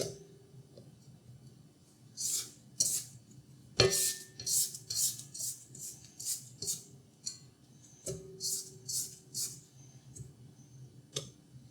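Spatula scraping down a mixing bowl of creamed chocolate fudge pie batter, a series of short, close scraping and clicking strokes against the bowl in an irregular rhythm, with a few sharper knocks and no talking.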